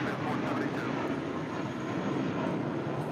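A Boeing 747 rolls down runway 25 left at Los Angeles International, a loud, dense, continuous jet engine roar close by that stays steady without letting up.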